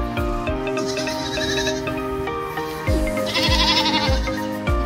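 Goats on a farm bleat loudly and repeatedly, several overlapping wavering calls close by, with no talk over them.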